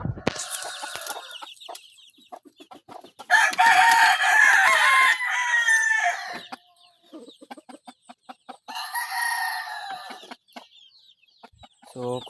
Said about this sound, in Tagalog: So nandito yung mga manok kanya.